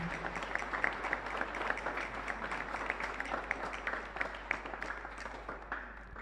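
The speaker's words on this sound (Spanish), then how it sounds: "Fuerte aplauso para ellos." A congregation at Mass in a chapel claps for the altar servers, choir and ministers, a steady, moderately loud patter of many hands with a low hum beneath.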